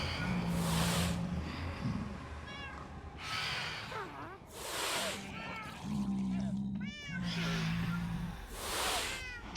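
Cats meowing in a blocky survival video game, with repeated yowling calls and caterwauls rising and falling over several seconds, mixed with a speaking voice and a low hum.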